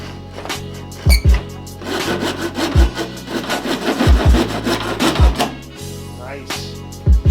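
A hand saw cuts through wood in a steady back-and-forth rhythm of loud, close rasping strokes, with light talk in the background during work on a 6.0L Trans Am.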